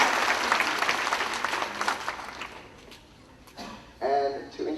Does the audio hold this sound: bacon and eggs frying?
no